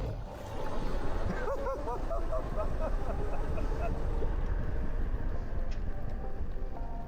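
Boat engine at full throttle, a continuous rumbling drone with wind buffeting across the microphone, while a voice talks briefly over it.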